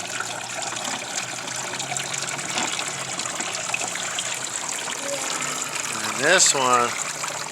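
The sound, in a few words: water trickling down a kids' water table waterfall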